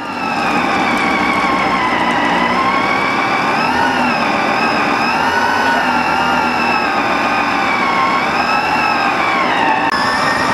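A kitchen appliance chopping ingredients for cheesy eggplant parmesan, its motor a loud, steady whining hum with slight wavers in pitch, running without a break for about ten seconds before cutting off.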